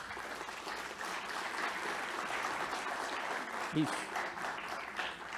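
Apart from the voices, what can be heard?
audience applause for the moderator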